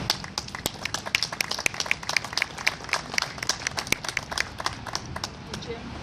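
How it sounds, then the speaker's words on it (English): Outdoor crowd at a POW/MIA memorial dedication claps in a sparse, open-air round of applause, with distinct individual hand claps ringing out unevenly against a light background. "Let's give him a round of applause."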